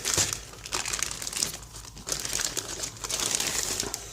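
Crinkly plastic bag holding Italeri M4A3E8 Sherman "Fury" model kit sprues, rustled and crumpled by hand in close, continuous bursts of crackling with no talking.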